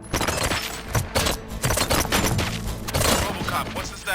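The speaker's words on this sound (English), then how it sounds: "Gunshots? What's going on?" Rapid video game gunfire in RoboCop: Rogue City, dense bursts of overlapping shots crackling in quick succession, loud and close, with brief gaps between volleys.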